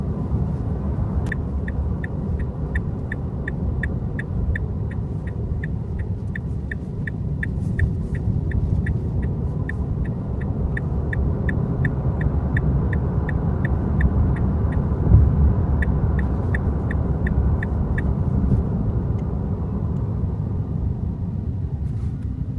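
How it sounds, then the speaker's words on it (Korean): A Tesla driving on Full Self-Driving v14.2 at about 35 mph gives a steady low road rumble heard from inside the cabin. A regular ticking, like a turn indicator, runs through most of the drive. "여기 35마일인데 계속 35를 넘지 않게 잘 주행을 하고 있어요"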